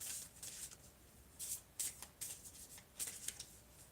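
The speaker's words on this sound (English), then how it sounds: "These are hard to shuffle." Soft papery riffling of large tarot cards being shuffled in short bursts, close and quiet, with no talking.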